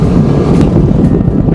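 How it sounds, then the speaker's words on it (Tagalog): A strong headwind on a wide main road in Pangasinan buffets the microphone with loud, continuous low roaring and rumbling gusts that drown out everything else. "Ingat lang tayo lagi, pero ang hangin yung headwind talagang tumatagos sa noo ko."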